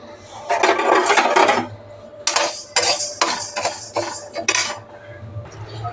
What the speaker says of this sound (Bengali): এবার আমি ডালটাকে ভেজে নেব।